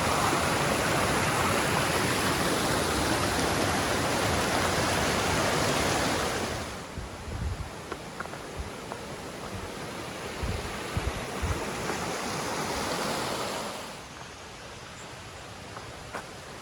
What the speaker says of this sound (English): This water's flowing today.